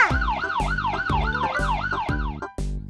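A cartoon toy police car's siren wails in a steady rising-and-falling loop, loud and close, with no voices over it.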